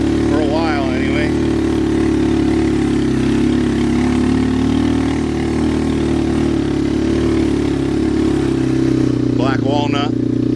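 A grass-cutting mower engine running steadily at a constant idle-like drone, close and loud throughout, with a voice speaking briefly at the start and end over it.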